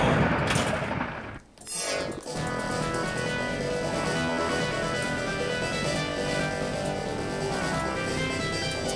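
Loud, continuous gun sound effects from a Williams Big Guns pinball machine, with a sustained rattle of shots that briefly drops out before resuming steadily.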